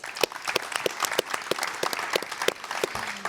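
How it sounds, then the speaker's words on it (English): Audience applause after a presentation on the roadmap to net zero, a sparse, fairly close run of distinct individual claps at a slow, uneven rhythm, with a brief low tone near the end. "An applause for them as well, please."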